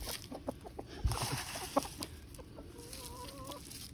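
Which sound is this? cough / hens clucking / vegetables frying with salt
hens clucking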